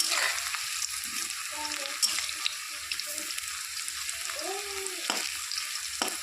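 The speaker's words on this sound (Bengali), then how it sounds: "এক পাশ ভাজা হয়ে গেছে, উল্টে দিচ্ছি।" Cauliflower pakoras frying in hot oil while being turned over with a spatula: continuous close sizzling with a few scraping, clinking touches as the fritters are flipped.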